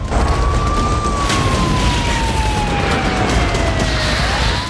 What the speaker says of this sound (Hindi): बीती रात पूरे यूक्रेन में रेड अलर्ट सायरन बजता रहा